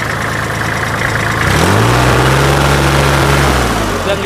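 A used Kubota L3408 tractor engine runs steadily at close range, its diesel chugging in a mid-range drone that shifts in pitch partway through as if the revs change, with no talk over it.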